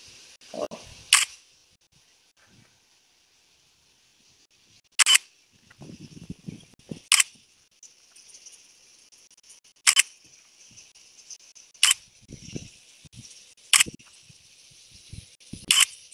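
Shutter clicks from an ASUS Zenfone2 phone camera shooting a 360-degree panorama, about seven sharp, separate snaps spread over several seconds, with faint handling noise and soft rustles in between and a steady background hiss.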